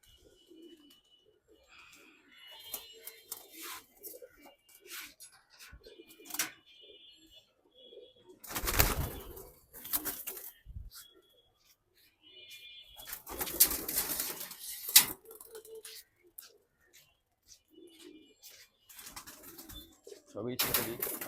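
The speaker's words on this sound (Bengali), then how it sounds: "বেশিরভাগ কবুতরই পর ঝাড়তেছে, বেশিক্ষণ উড়ে না।" A flock of pigeons coos softly while several birds shake and flap their wings in loud, rustling bursts, with people talking faintly in the background.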